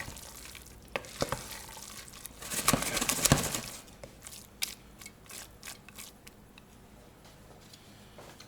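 Beluga lentils with smoky aubergine and tomatoes are gently folded and stirred, giving soft scraping and wet clicks that swell to a louder burst of mixing, then taper into lighter intermittent taps.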